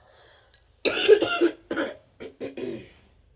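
A run of harsh coughs, one long fit followed by several shorter bursts, close and loud with quiet pauses between.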